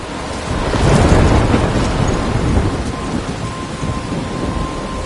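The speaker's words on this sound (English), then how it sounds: "I'm trapped in a storm?" A thunderstorm in the video game Life is Strange: loud rolling thunder swells and fades over steady heavy rain, close and enveloping, with no voices.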